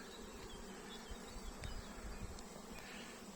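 A spring honeybee swarm buzzing at the hive, a soft, continuous drone of many bees at close range with no voices.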